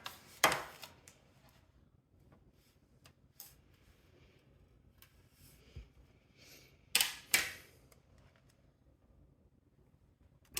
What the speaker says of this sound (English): I'm going to go ahead and dump these screws so that I have them onto the side.